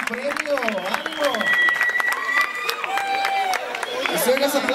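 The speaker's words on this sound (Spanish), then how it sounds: "Reciban los aplausos, compañeros." Audience applauding first-place award winners at a gala awards night, steady clapping mixed with crowd chatter and whistles, while voices talk and call out over it.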